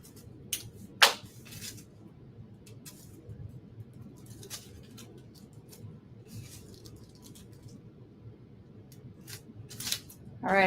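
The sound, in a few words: scissors cutting strips of foam adhesive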